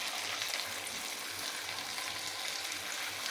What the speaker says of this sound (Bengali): তেলটা গরম হয়ে গেছে, আমি এবার একটা করে লুচি ছেড়ে দেবো।